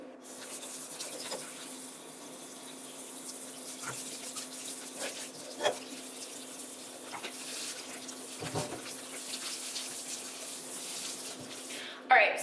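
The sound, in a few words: washing a watermelon with water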